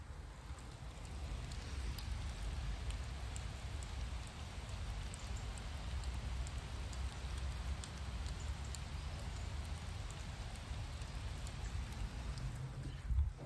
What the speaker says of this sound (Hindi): बारिश हो रही है बहुत तेज़